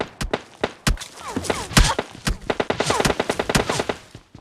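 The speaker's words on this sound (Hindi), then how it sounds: "सामने से कुछ गन साउंड आ रहे थे" Gunfire in the mobile shooter PUBG Mobile Lite comes as loud, close rapid-fire bursts of automatic shots. Sparse single reports open it, then the bursts build into a dense volley.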